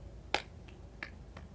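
Limp, tired-style hand claps, four soft brief slaps spaced unevenly over about a second and a half, quiet and alone.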